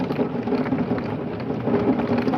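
Heavy rain from a severe thunderstorm with marble-sized hail and mild gusts, heard through a window: a dense, steady downpour hiss with a low rumbling undertone, unbroken from start to finish.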